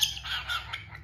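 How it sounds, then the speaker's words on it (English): A hungry cockatiel squawking while being hand-fed, a quick run of shrill, raspy squawks and chirps at close range, loud against a quiet room. "this bird is hungry"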